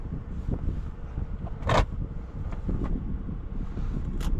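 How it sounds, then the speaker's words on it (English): A 2023 Ford F-150 Tremor pickup driving on a road, with a low steady rumble of engine and tyres under heavy wind buffeting and a sharp bump or clunk partway through. "let's get this car out on the road and see how it drives"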